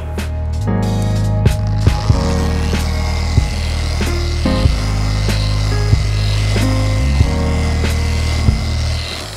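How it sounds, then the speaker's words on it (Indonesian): A machine polisher works on car paint with a loud continuous motor whine that shifts pitch as speed changes, with small periodic clicks and knocks, close up. "Kita mulai untuk memoles ya."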